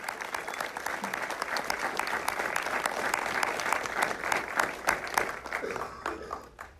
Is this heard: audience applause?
yes